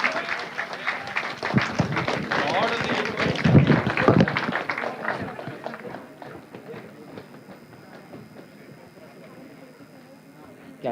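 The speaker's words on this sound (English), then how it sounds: "give a round of applause to the NPTEL team" A live audience claps for the NPTEL team being called onstage at an IIT Bombay SPOC felicitation workshop, the dense applause strong for about six seconds before thinning into scattered claps and room noise.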